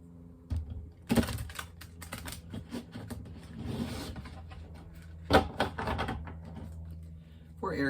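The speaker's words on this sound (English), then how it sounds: "Let me do some shuffling for this." Tarot cards from an oracle deck are shuffled and handled indoors, giving irregular riffling and tapping with soft slaps and rustles that come in bursts over several seconds. The sounds are close and fairly quiet, and no one talks.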